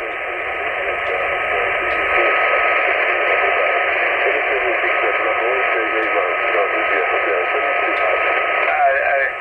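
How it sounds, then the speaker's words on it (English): A faint Japanese amateur radio station comes in on the 17 meter band, heard through a magnetic loop antenna setup: a thin, band-limited voice buried in steady hiss that runs without a break for the whole stretch. "You hear the Japanese station there. He's really faint,"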